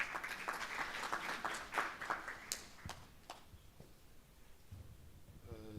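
An audience applauds at a Free State education breakfast meeting, the clapping faint and distant with scattered claps tapering off toward the end.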